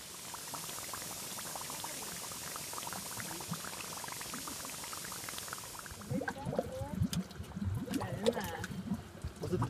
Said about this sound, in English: That's the sound of the sand hissing.